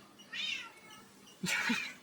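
A cat on an exercise wheel meows twice, close and clear, two drawn-out calls separated by a short pause.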